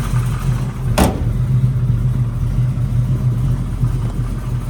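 A restored 1969 Chevrolet Camaro SS convertible with a 383 V8 runs with a steady, rumbling low idle, one sharp click or knock early on, and a mild swell in engine note partway through.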